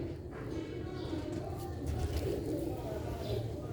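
Pigeons coo in a loft of pure-bred fancy birds, a low steady burbling that runs throughout, fairly close, mixed with faint background noise and occasional chirps.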